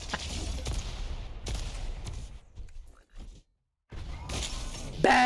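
A rocket hits a player in a DWL Masters video game match, heard as crashing explosive bursts and impacts. The bursts are broken by a short silent gap, and a commentator talks over the action.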